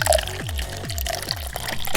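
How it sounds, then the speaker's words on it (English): Two-stroke fuel premixed 40-to-1 glugs from a container into the tank of a gas-powered Surron bike, a close, steady gurgling pour with rhythmic bubbling pulses. "I mean fill it up with 40-to-1 2-stroke fluid."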